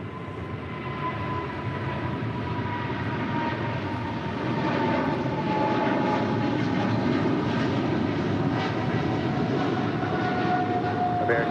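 An Airbus A380 departs LAX on runway 25 left, its jet engines giving a continuous broadband roar with faint tonal whine that grows somewhat louder midway and stays steady, heard from a moderate distance without speech.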